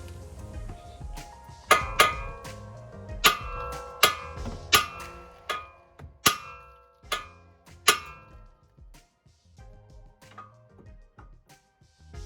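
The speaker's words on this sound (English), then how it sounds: "So now I just got to hit this section and it basically squeezes that metal and pops that taper out." A hammer strikes a VW MK5 Jetta suspension joint to pop the taper out, giving about a dozen sharp metallic clangs in an uneven rhythm, some in quick pairs, then fading to lighter taps.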